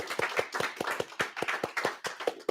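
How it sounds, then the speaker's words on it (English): Clapping from a small group at a high school awards ceremony honoring magna cum laude students, with sharp, distinct hand claps in a quick irregular rhythm, close and moderately loud. "Let's give a round of applause for our high school magna cum laudes"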